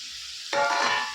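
Grated coconut dropped into a hot pan and stir-fried for a thorny eggplant dish, giving a sudden loud sizzle that slowly fades, with no voices.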